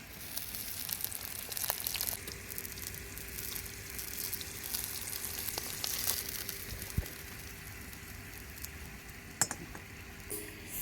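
Curry leaves dropped into hot oil along with whole shallots for Kongu-style sambar, a faint, low steady sizzle with occasional soft pops and crackles, no talking.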